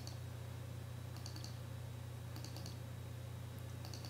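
A computer mouse clicks through entries in a student list at an elementary school lunch window: faint, quick clusters of clicks come in three short bursts over a steady low electrical hum.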